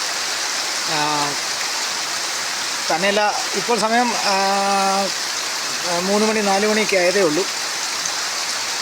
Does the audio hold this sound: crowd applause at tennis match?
no